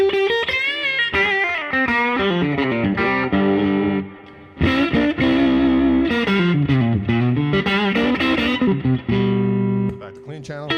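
An electric guitar plays through the clean channel of an amp, with the output tubes pushed into mild saturation. Chords ring out warm and slightly gritty, broken by a short pause partway through, with no talking.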